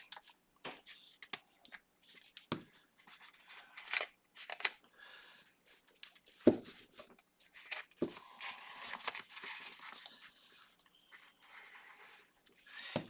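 Scissors snip through paper from a junk mail envelope, giving quiet, scattered cuts and rustles close up, with soft handling sounds between the snips.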